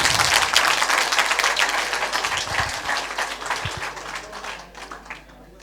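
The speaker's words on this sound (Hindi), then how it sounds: "नैन्सी के लिए जोरदार तालियां बजा दें" Loud, sustained audience applause for a contestant at a Sanskrit quiz during the Mahakavi Magh festival, dense clapping that gradually thins and fades toward the end.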